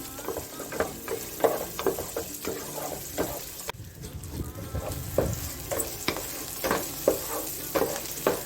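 Onions deep fry in a pan with curry leaves for a Tamil-style basil potato prawn gravy, crackling and sizzling steadily while a spoon stirs them in repeated scraping bursts, close and moderately loud.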